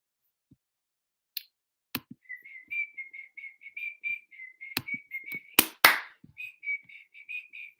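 Someone whistles a tune in short, bouncy notes mixed with a few sharp snaps or taps, with a loud knock midway, all close and without any talk.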